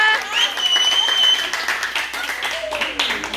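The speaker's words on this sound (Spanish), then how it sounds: "¡Aplausos!" Applause and clapping at a birthday party, mixed with voices and laughter close by, with a whistle-like tone rising over the crowd noise.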